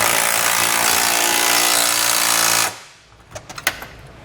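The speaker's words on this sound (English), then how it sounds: "we'll use a 19mm socket and wrench to tighten down the larger bolts through the side of the frame" Power tool tightening hitch bolts with a 19mm socket on a Curt trailer hitch receiver being fitted to a 2020 Kia Telluride frame: a loud steady broadband whir for about two and a half seconds, then a few faint clicks.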